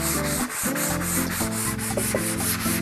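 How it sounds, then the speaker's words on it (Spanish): Light hand sanding of exterior wood with sandpaper, done gently to clean the surface before a new coat of decorative protector: a steady soft rubbing over a continuous musical background. "Es algo tan sencillo como aplicar suavemente una lija"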